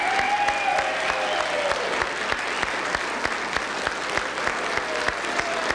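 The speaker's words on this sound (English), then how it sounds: "There's a round of applause for him right now." Steady applause from a crowd at a 1981 Manitoba election-night event as the Premier walks onto the centre floor, sustained and fairly loud throughout with sharp individual claps standing out, with some faint chatter mixed in.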